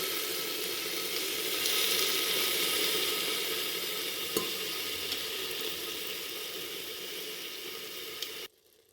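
Soaked dal sautéing in ghee, a continuous close frying sizzle that holds steady for several seconds with a brief click partway through, then cuts off abruptly near the end.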